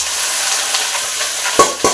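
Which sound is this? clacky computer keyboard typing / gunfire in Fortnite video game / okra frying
okra frying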